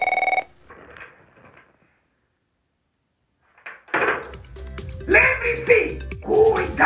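A telephone rings at the start while a call is placed to a friend, a brief burst that cuts off into a long silence before voices start talking.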